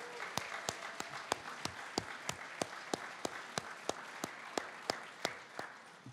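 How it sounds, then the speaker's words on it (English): Sparse, steady clapping from a small audience at an evening charity auction event, sharp separate claps landing at a near-regular beat of about three per second, fairly close and moderately loud. "Let's have a round of applause for these guys."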